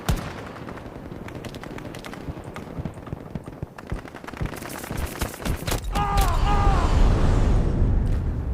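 A light machine gun firing in the shooter video game Battlefield 2042, rapid bursts of shots crackling over busy game noise and music, with a louder rumbling stretch toward the end.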